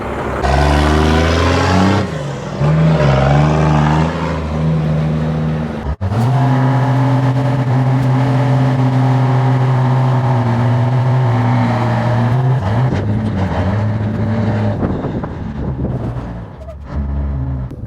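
A GMC C8500 dump truck engine runs and pulls away, a loud, steady diesel drone close by with shifts in pitch as it drives, holding strong from start to finish.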